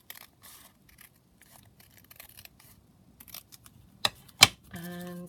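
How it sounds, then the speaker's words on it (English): Scissors cut down a paper envelope in a few short, crisp snips near the end, with quiet handling noises before them and no talking. "I'm going to cut this envelope down"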